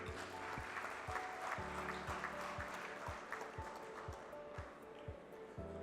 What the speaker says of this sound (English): If you want to clap, clap loudly